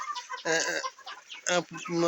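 Fayoumi chickens cluck at a poultry farm in short, loud bursts close by, separated by brief pauses with quieter background clucking.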